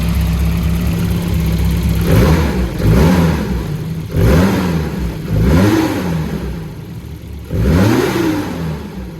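A Volvo 240 engine after a swap to LH2.2 fuel injection, idle adjusted on a cold start, idles steadily and is blipped in four rising-and-falling revs spaced a couple of seconds apart, close and clear with no talking.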